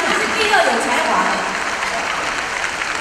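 Concert audience applauding at the final show of a folk song 40th anniversary tour, a steady, dense wash of clapping that fills the whole stretch without breaks, loud and close.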